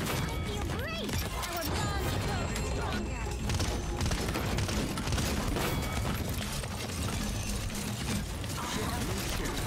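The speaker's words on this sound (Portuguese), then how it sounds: "Esse jogo tem um barulho gostoso de headshot, de tiro de modo geral, assim." Rapid gunfire and weapon effects from the online shooter Paladins, bursts of shots, clanks and impacts packed densely over a constant game soundtrack, with voices chatting over the action.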